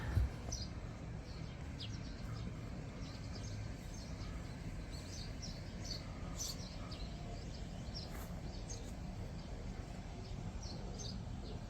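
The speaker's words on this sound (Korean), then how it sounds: "맑은 새소리 이제 많이 들리고" Faint bird chirps and tweets scattered over a steady outdoor background hiss in a house garden, distant and intermittent, with no voices or traffic.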